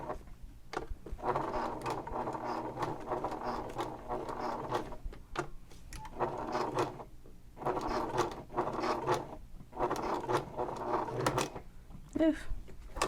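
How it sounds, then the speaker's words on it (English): A sewing machine stitches a box through a folded vinyl messenger bag strap, running in several steady bursts of a few seconds each with short pauses between them, close and moderately loud. "I'm going to sew a box right here."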